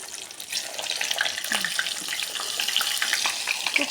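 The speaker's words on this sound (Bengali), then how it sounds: "একটা একটা করে তেল গরম করেছি, এখন একটা একটা করে ভাজবো।" Momos frying one at a time in hot mustard oil, with a steady close crackling sizzle and scattered sharp pops throughout, no talking.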